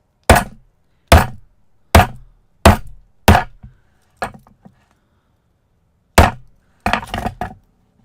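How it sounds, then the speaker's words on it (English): Hammer blows striking along a wire laid on a metal sheet, about five evenly spaced sharp metallic hits, then a softer tap, a pause, and a final cluster of quicker strikes, close and loud. "I'm going to hammer going along this wire."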